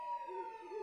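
A police siren wails in the PS3 horror game Shin Hayarigami, a steady, loud electronic tone held without a break through the short moment, with no voices over it.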